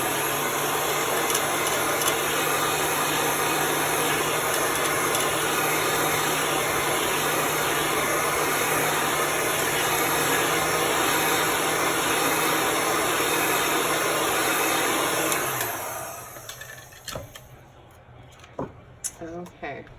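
A hair dryer blowing on chalk paste runs loud and steady at close range for about fifteen seconds, then shuts off, leaving quiet handling noises.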